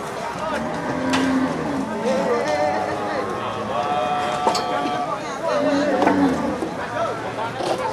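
PO breed cattle low repeatedly, a couple of drawn-out moos rising over busy outdoor chatter and background commotion.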